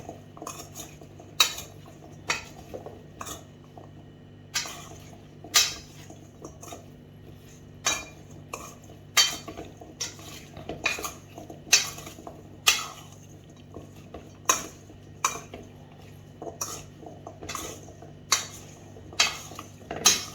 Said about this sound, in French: On va bien mélanger notre préparation avec l'huile d'olive.